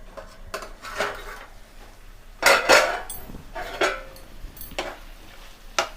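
A lid comes off a pot of chicken being cooked down in spices, giving a few clattering metallic clanks and scrapes of cookware spaced across a quiet kitchen with faint background hiss.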